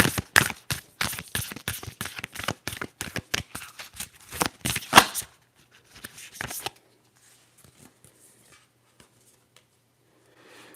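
A Moonology tarot deck is shuffled up close, with rapid crisp riffling snaps for several seconds followed by softer card slides and near silence.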